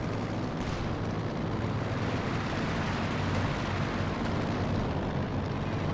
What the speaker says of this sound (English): It's an anti-aircraft gun.